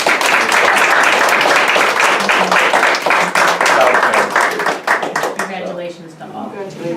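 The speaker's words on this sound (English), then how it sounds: "Please join me in a round of applause." A round of applause breaks out at a school board meeting, dense clapping from many people filling the room for about five seconds before tapering off, with voices coming through as it fades.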